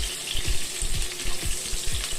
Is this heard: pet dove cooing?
no